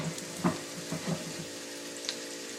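Ginger frying in oil in a pan, a soft steady sizzle with a few sharper spits and pops, close and fairly quiet.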